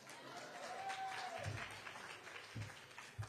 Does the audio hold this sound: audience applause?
yes